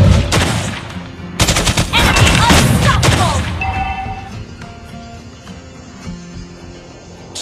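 Rapid bursts of gunfire from the hero Clint in the mobile game Mobile Legends, loud and dense at first with booming impacts, then fading into quieter game effects and a ringing tone.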